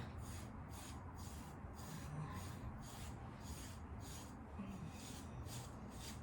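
Grooming rake drawn repeatedly through a thick Gordon Setter coat, pulling out dead undercoat, giving steady rhythmic rasping strokes about twice per second, close and unbroken with no voices.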